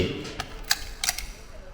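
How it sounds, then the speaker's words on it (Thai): A few sharp mechanical clicks of a Nikon FE camera shutter, close up and in a quiet room, with a short gap between them. "ทีนี้เราลองดูชัตเตอร์ กดชัตเตอร์ 2 วินาที"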